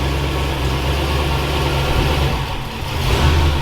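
A 1965 car engine idles close by with a loud, steady low rumble that dips briefly and then swells again, with no talk.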